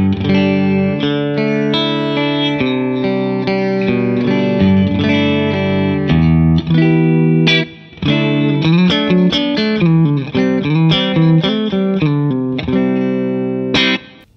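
An electric guitar plays through the clean channel of a Synergy SYN30 amplifier, voiced in a Fender-like style, ringing out in sustained chords and melodic runs that stay loud and steady throughout, with no talking.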